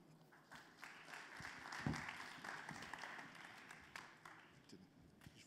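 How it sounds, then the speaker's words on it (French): Audience applause at a recruiters' pitch event, a spread of scattered hand claps that swell briefly and then continue unevenly at moderate level, with no talking over them. "Sous vos applaudissements."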